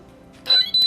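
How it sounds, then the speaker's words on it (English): A laser tag sensor signals a hit with a quick electronic sequence: a faint tone, then two short bright beeps close by, all within about a second. "So it blinks and beeps and tells you you've been hit."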